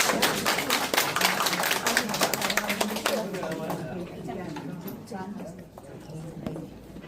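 An audience at a charity ambassador appointment ceremony breaks into dense, loud applause that fades over several seconds, with voices talking over the tail end.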